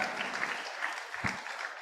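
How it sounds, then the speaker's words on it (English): An audience at an annual celebration and awards ceremony applauds the graduates with a brief, even wash of clapping at moderate distance. "Can we give them a round of applause, please?"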